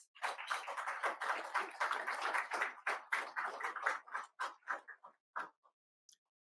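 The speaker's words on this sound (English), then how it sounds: "Please give our sponsors a big round of applause" A small audience at an AUSA coffee series event applauds the sponsors, moderately quiet clapping that thins into separate claps and tapers off into silence.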